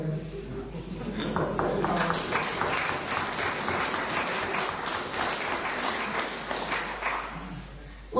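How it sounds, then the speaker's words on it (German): An audience applauds at a political speech in Bamberg, a dense, sustained wash of many hands clapping that holds steady for the whole stretch. "Applaus"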